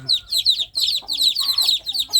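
Free-range hen with a brood of newly hatched chicks making a busy, noisy racket: dense, continuous high peeping from many chicks over occasional low clucks, close and loud.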